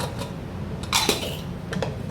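A pressure cooker lid is lifted off after cooking mutton curry, giving a short metallic clatter and scrape near the middle, with a softer clink just after, all close by.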